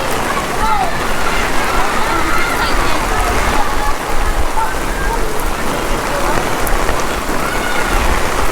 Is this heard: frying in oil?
no